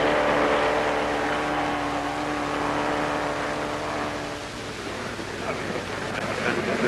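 A Triumph TR2 sports car runs at speed on a timed speed test, its engine a steady high drone with rushing wind noise that eases slightly midway.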